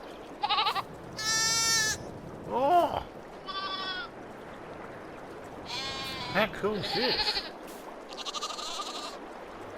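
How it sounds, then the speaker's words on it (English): Lambs and goats in the Farming Simulator 22 video game bleat several times in clear, close, repeated calls, with someone talking in between. "Oh, look at the little lambs. The little goats."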